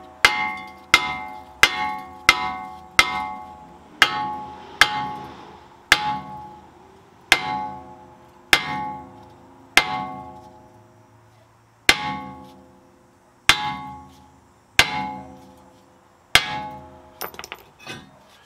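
About fifteen sharp metallic hammer strikes ring out on a stuck rear brake rotor of a 2013–2021 Ford Fusion Hybrid, quick at first and then slower, each clang decaying briefly, close and loud with no talking.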